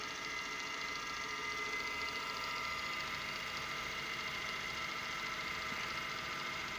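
A driving motor turns a permanent magnet alternator on a test rig. It gives a steady, continuous mechanical hum and whine with a constant pitch, close and moderately loud, and no voices are heard.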